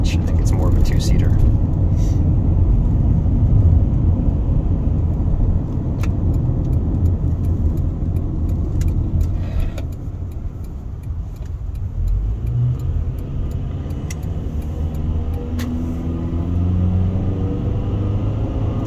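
A 1997 Honda Odyssey minivan with factory all-wheel drive pulls away from inside the cabin, giving a steady low engine rumble that swells a little as it accelerates, with voices over it.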